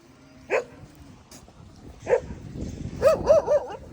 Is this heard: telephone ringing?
no